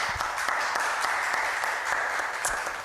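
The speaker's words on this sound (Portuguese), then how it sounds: "Salva de palmas para o Senhor Jesus" A church congregation applauds at the close of a service, a steady, continuous patter of many hands clapping at moderate volume with no talk over it.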